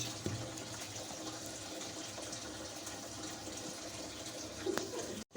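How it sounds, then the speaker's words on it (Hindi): Water trickles little by little into gram flour (besan) batter being stirred in a kitchen, a quiet, steady pouring and gushing sound with a slight splash near the end. "थोड़ा थोड़ा पानी डालेंगे ताकि इसकी फुटकियाँ ना बने। डालते जाएंगे और चलाते जाएंगे।"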